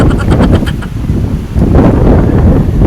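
Loud gusts of wind buffet the microphone in the middle of a rice field, roaring and rustling with a brief lull midway before surging again.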